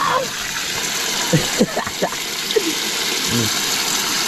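Strong tap water gushing into a container being filled, a steady broadband rush running throughout with a few splashy bursts, while people talk intermittently over it.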